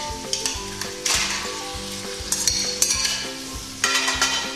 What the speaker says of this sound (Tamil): பிரான் கொஞ்சம் நல்லா வதங்கிட்டு ஒரு 5 நிமிஷம் இதை வதக்கி விட்டுருங்க பிரானை.